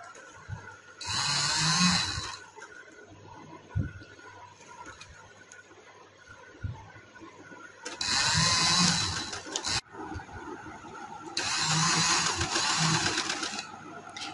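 A sewing machine stitching zigzag lace onto a kameez hem runs in three loud whirring bursts of a couple of seconds each, separated by quieter handling and light clicks.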